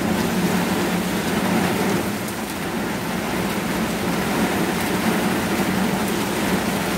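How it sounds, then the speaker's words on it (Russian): Heavy rain pours steadily onto a gazebo roof and floor, a dense continuous hiss and patter that stays loud and even throughout, with no voices. "Я повернула кресло, потому что дождь начал литься."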